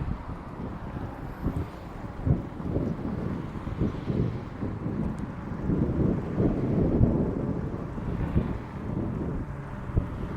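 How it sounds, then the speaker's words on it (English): Wind buffeting a microphone while riding a Rad Runner e-bike, an irregular low rumble with gusty thumps and surges throughout, fairly loud and with no voice. "How's that wind sound? Can you hear the wind?"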